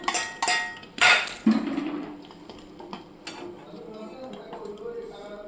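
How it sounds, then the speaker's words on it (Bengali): Green chillies being chopped for an egg omelette, a few sharp knife knocks on a board near the start, then quieter scattered clinks and taps of kitchenware with faint background voices. "লঙ্কা কুচি করে দিচ্ছে ডিমের অমলেটে"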